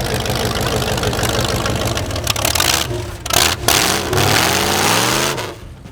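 A heavily modified, rough Dodge Challenger runs and drives, its engine droning and revving with shifting pitch, along with scraping and rattling noises before it settles.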